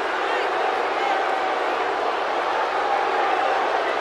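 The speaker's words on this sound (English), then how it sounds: "Would you listen to this crowd?" A steady, dense roar of a wrestling arena crowd in WWE 2K18, building for a Brock Lesnar vs AJ Styles match, continuous and loud throughout with no distinct voices standing out.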